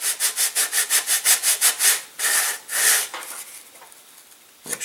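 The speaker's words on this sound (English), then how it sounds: "we'll take the wings here, bevel them slightly, get the roots." Balsa wing roots of an F1N catapult glider being bevelled on a sanding block, with a quick run of about a dozen rhythmic back-and-forth rubbing strokes followed by a few longer, slower passes. The scraping is close and clear, with no talking.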